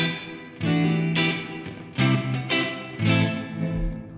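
Short musical phrases processed through an iZotope Neoverb room reverb preset, each of about five bursts swelling and then decaying into a short, realistic room tail, fairly close and alone.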